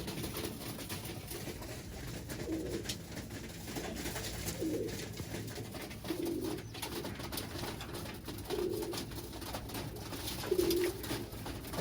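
Birmingham Roller pigeons coo softly while feeding, low throaty calls repeating every couple of seconds against a steady background hiss, close by and unhurried.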